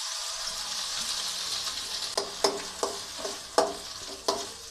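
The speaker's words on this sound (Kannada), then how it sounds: "ಈಗ ನಾವು ಸ್ಮ್ಯಾಶ್ ಮಾಡಿಕೊಂಡ ಈ ಆಲೂಗಡ್ಡೆ ಇದಕ್ಕೆ ಹಾಕ್ಕೊಳ್ತಾ ಇದ್ದೀನಿ" Smashed boiled potato added to oil tempered with green chillies, a soft sizzle under several sharp, distinct spoon scrapes and knocks against the pan, close and without talk.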